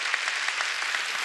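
A church congregation claps during a Korean Sunday worship service, an even, steady patter of many hands with no talking over it.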